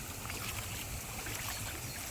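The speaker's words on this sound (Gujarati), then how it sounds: "આ માર્ગમાં વેતા પાણી છે ફૂલ વેતું પાણી છે" Rainwater runs along a path through a field after heavy rain, a steady broadband rush and trickle of flowing water, fairly close and continuous, with no voices.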